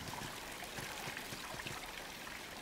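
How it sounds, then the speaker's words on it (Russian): Water flows in the dark-fantasy video game Salt and Sanctuary, a faint, continuous trickling stream with no voices over it. "А почему вода идет вверх?"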